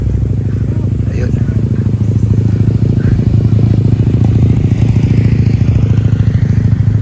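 A motorcycle engine strains under the load of carrying passengers, its loud, steady, pulsing drone continuing without a break while people talk over it.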